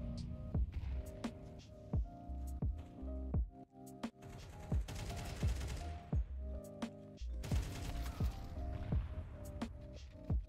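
Rapid bursts of rifle gunfire in Counter-Strike on the Anubis map, sharp repeated cracks in quick volleys over a steady game ambience, with several separate exchanges spread across the stretch.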